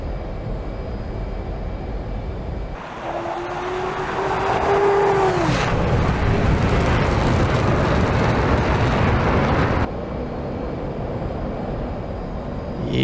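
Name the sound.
F/A-18 Hornet jet taking off in DCS video game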